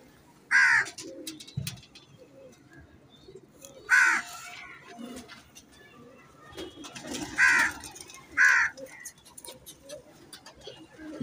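A large female Sialkoti rooftop pigeon gives four separate cooing calls, spaced a few seconds apart, over a quiet low background murmur.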